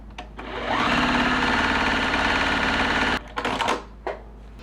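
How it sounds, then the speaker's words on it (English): A sewing machine stitches a quilt block seam, running steadily at a fast rhythmic pace for about two seconds near the mic, then stopping, followed by a few short clicks and handling sounds. "So now let's sew that on there."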